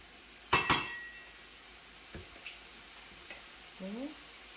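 Meat stir-fried in a pan with olive oil and a spoonful of curry powder. Two sharp metallic clanks open, followed by a quiet sizzle with a few light scrapes and taps of stirring.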